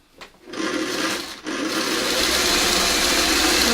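A sewing machine stitches a quilt seam, starting with a couple of short bursts and then settling into a fast, steady motor whir with rapid needle ticking, loud and close.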